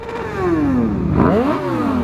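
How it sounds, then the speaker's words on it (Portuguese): A motorcycle revs close by on a ride, its engine note dropping, then surging and climbing again in pitch over about two seconds, loud and unaccompanied by speech. "Vamos dar uma voltinha de moto hoje."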